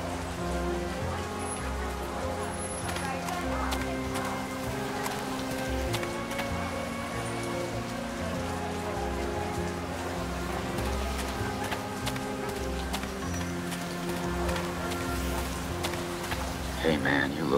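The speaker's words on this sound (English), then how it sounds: "I turn up my collar against the rain." Rain falls steadily in World of Goo 2, a soft continuous patter of raindrops over layered game music and ambient tones, with a brief clatter near the end.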